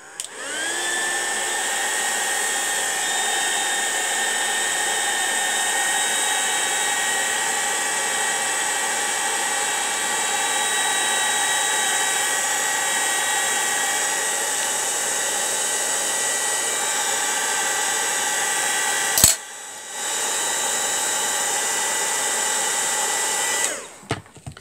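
A heat tool warming Sizzix shrink plastic makes a loud, steady blowing whine for about twenty seconds, drops out briefly, then resumes before stopping.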